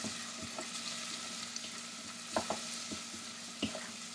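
A sauce sizzles steadily in an oily pan while a spoon stirs it, adding a few scattered scrapes and light clinks over the constant close frying hiss.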